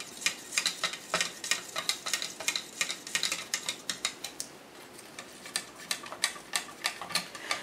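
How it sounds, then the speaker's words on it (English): A tool scrapes and taps through fluorescent acrylic paint in a container as it is stirred, making rapid, rhythmic clicking strokes that come close and clear with a slight pause midway, no voices over them. "Make sure those are stirred up real nice."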